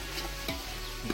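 Chicken frying in a pan while dum biryani is being cooked, a soft steady sizzle with faint stirring, heard alone and fairly quiet.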